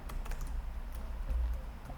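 Fingers type rapidly on a computer keyboard, a dense, steady patter of close key clicks over a low background hum, with no one speaking.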